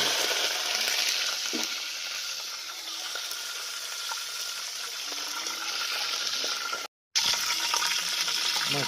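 Green chilli masala and spices for kadhi crackle and sizzle in hot oil over a wood-fired chulha, a loud continuous frying hiss with scattered pops that cuts out briefly near the end.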